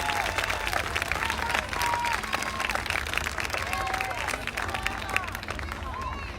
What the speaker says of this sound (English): Please give your Miss contestants a big round of applause